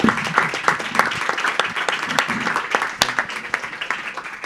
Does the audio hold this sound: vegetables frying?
no